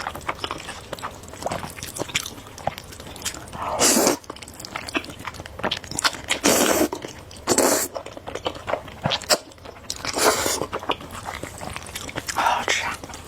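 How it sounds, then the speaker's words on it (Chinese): Someone eats spicy noodles with eggs up close, with soft slurps, wet chewing and a few louder bursts of biting and crunching, broken by quiet breathy pauses. "我慢慢吃了"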